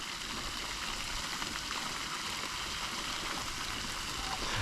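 Water splashing and rushing as an RC boat runs through a fountain, a steady broadband wash like a stream, continuous and fairly close, with no talk.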